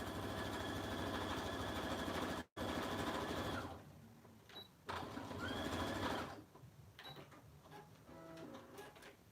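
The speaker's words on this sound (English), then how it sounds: "So I'm sewing this all the way around." A sewing machine stitches fabric for oven mitts, running steadily for a few seconds with a fast mechanical hum, then stops and restarts in shorter bursts, close by.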